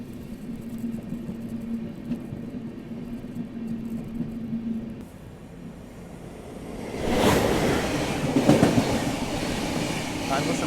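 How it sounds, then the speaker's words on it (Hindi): The Howrah Rajdhani Express, heading toward Kanpur Central, moves through dense fog, a steady rolling rumble with a low hum that grows into louder rushing clatter of wheels and wind partway through, heard close from aboard. "घने कोहरे के बीच में अपनी हावड़ा राजधानी कानपुर सेंट्रल की ओर बढ़ते हुए"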